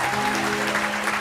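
A studio audience on a 2004 Taiwanese TV variety show claps loudly in a short burst, with a steady musical tone running beneath.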